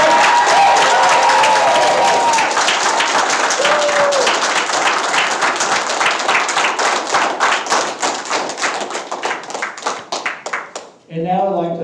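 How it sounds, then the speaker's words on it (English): An audience applauds graduates at a county felony drug court graduation ceremony, sustained loud clapping from a crowd that gradually thins into scattered individual claps before a voice speaks at the very end. "let's have one big round of applause for all the graduates one more time"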